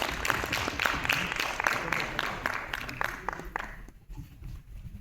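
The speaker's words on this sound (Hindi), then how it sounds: "गांव वाले तालियां बजाते हैं।" Villagers in a student drama performance by an MBBS batch at RIMS Ranchi clap together, a moderate burst of many hands that thins and fades over a few seconds, fairly distant with some murmur beneath.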